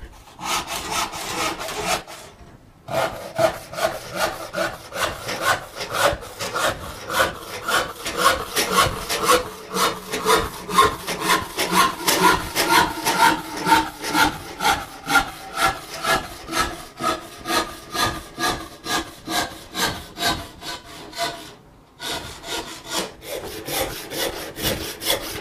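A hand panel saw cuts through a half-inch-thick wooden board clamped to a workbench, giving loud, close, steady rhythmic rasping strokes that run nearly continuously, with two brief pauses and no talking.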